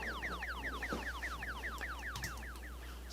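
A vocal laser effect made with the voice fires a rapid chain of descending zaps, each a quick downward sweep, repeating steadily over a low hum.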